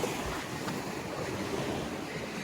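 Ocean surf washes onto a beach below clay cliffs, a steady broadband roar of breaking waves with wind buffeting the microphone, close and continuous and free of voices.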